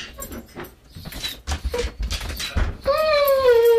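A dog whimpers in a few soft, broken bursts amid room noise, ending in a rising, sustained high whine.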